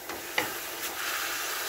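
A pot of chicken sinigang with tamarind being stirred, with a soft hiss and a faint scrape of the spoon against the pot, under a steady background simmer.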